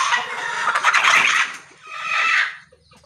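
Chickens at a BNR breeding farm clucking and squawking close by in two loud bursts, excited overlapping calls rising and falling, with no talking.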